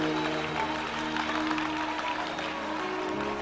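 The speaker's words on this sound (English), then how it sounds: "clap your hands, clap your hands," Congregation clapping along at a Sunday church service, a steady wash of hand claps over sustained music tones throughout.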